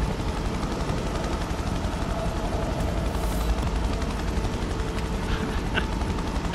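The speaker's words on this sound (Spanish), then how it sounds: "empiezo aquí en el helicóptero" A helicopter in the video game Prototype gives a steady, loud rotor drone with a dense rumbling wash, continuous throughout and with no speech.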